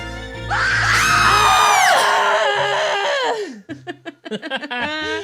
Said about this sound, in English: Got a proper scream for you today.